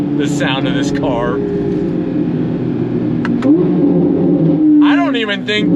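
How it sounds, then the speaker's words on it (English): A modified Chevrolet C8 Corvette Z06 engine holds a loud, steady note with one short rev swell, while someone talks over it near the start and end. "the sound of this car."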